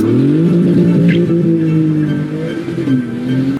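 Lexus LFA supercar engine sings with a loud, smooth high-pitched wail that climbs and holds, then dips and rises again, close and alone.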